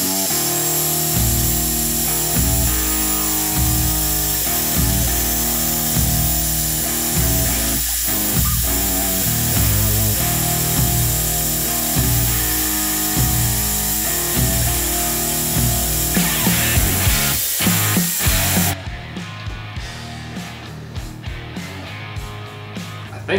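A power drill spins a wooden spindle against a block to start a friction fire, a loud steady whirring grind with rhythmic pulses and rubbing, running continuously before dropping away near the end.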